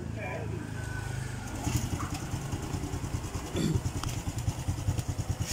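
A fuel-injected Honda Blade motorcycle with weak compression and a faulty TPS is kick-started, its engine catching into an uneven, pulsing chug with mechanical clatter, close by, as people talk over it.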